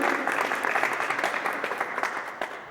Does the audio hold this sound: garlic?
no